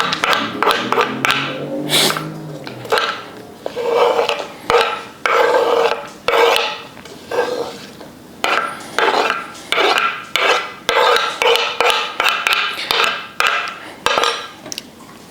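A metal spoon scraping and tapping in a dish while preparing vegan Mexican molletes, a run of short rasping strokes in a fairly regular rhythm, close and clear with no talk over it.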